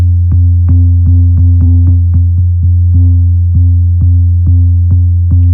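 A synth bass played on a Novation Peak with distortion and overdrive, a loud, buzzing low line repeated in a steady rhythm of short plucked notes over a sustained drone, no talk.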